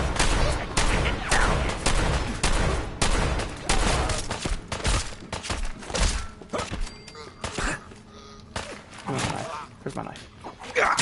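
Rapid bursts of gunfire in the video game Fallout 4, loud and dense with overlapping shots and thuds, nearly continuous across the clip with a brief lull near the end.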